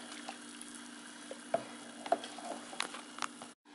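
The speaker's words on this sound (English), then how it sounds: "So we're just going to stir it up a little bit," A homemade beer mixture being stirred, soft irregular liquid swishes and small clinks against the container, quiet and close, ending abruptly.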